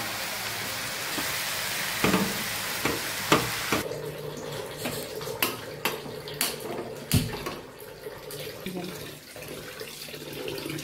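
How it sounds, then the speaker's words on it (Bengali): Vegetables and turmeric go into a hot frying pan, a steady loud hiss of sizzling with a cluster of sharp clinks and taps as they are added and stirred, close by. "আমি এবারে সবজিগুলো দিয়ে দেব। হলুদ দিয়ে দেবো।"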